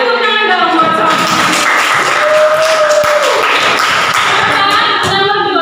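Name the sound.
classroom applause for a student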